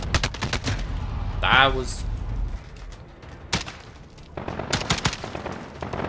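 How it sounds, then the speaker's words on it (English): An FAL rifle fires in semi-automatic mode in a video game, loud sharp shots in uneven clusters, with someone briefly speaking between bursts. "Oh, that's the FAL."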